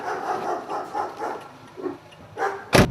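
A dog barks in a quick run of close, loud barks, pausing briefly and then barking again, with a sharp bang at the end, on a postman's round by a gate.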